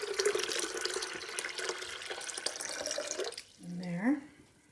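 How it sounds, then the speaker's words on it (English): Tap water, about four cups, running and splashing into a pot for elderberry syrup, a steady broadband rush that stops near the end, followed by a brief rising filling tone as the pot nears full. "You take the water. Now I got about 4 cups of water"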